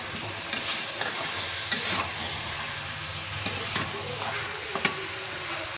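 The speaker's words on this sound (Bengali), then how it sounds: "এখন আমি ভেজে রাখা আলু আর সেদ্ধ করা কাঁঠাল একসঙ্গে মশলার মধ্যে দিয়ে ভালোভাবে কষিয়ে নেব।" Fried potato and boiled jackfruit are stir-fried in a spice masala, with a steady close sizzle broken by sharp clicks and scrapes of a spatula against the pan, no voices.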